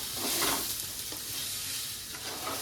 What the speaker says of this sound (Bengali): একটুখানি নেড়ে নেবো ভালো করে